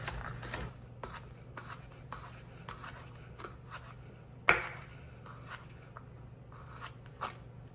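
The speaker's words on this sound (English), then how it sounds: "I'm just gonna slice them up" A knife slicing cucumbers: a series of light, crisp cuts in irregular rhythm, close and moderately quiet, with one sharper knock near the middle.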